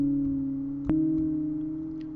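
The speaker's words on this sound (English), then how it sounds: "So it's this trippy kind of bell sound." A trippy, bell-like synth tone from Carbon 2 in Reaktor holds as a steady, sustained harmonic drone. A single sharp click interrupts it partway through, and no one speaks.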